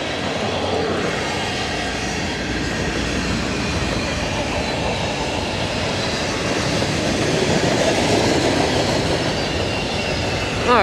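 A long train rolls past on railroad tracks, a loud, sustained rumble and clatter of wagons close by, continuous and unbroken for the whole stretch.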